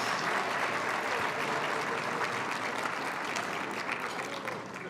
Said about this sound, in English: let's applaud them as well